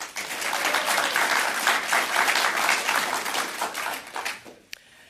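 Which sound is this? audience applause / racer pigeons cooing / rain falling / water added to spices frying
audience applause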